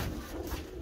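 A single pigeon coos softly at close range in a short, low, steady burst, with faint background noise.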